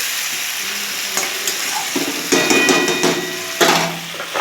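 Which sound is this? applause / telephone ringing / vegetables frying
vegetables frying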